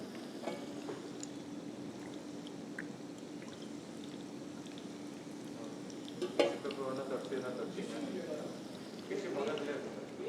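Marinated chicken for restaurant-style Japan chicken fries in a pan with a constant close sizzle and bubbling, with a few brief stirring or turning sounds and some quiet talk over it.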